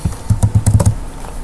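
Keys on a computer keyboard are tapped in a quick, uneven burst of about eight close, crisp clicks, then the typing stops and leaves a quiet pause.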